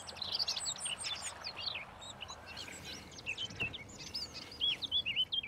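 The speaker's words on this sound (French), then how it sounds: "on écoute les oiseaux qui se parlent d'amour" Many small birds chirp and tweet continuously in a forest over a soft outdoor hiss, calls overlapping at varied distances with no talking.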